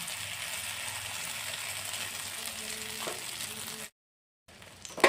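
Beaten egg frying in oil in a pan, a continuous bright sizzle that suddenly cuts out and then resumes briefly with a scraping clatter at the end.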